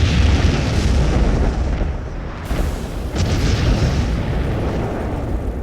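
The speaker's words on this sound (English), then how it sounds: "an explosion rocked Havana Harbor" Explosion aboard the USS Maine in Havana Harbor rendered as a sound effect, a sustained roaring blast with a sharp second boom midway and continuous rumbling debris, loud and close.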